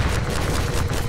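Dense rapid gunfire roars loud and continuous from combat in the video game Half-Life 2, alone with no talk.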